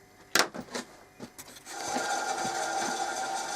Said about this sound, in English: I'll take that off on the bandsaw.